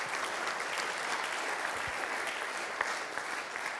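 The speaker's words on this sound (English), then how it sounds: "So maybe I can invite them on stage with a little round of applause." An audience at a corporate conference claps as two co-hosts walk onto the stage, a dense, even round of applause at moderate distance with no voices over it.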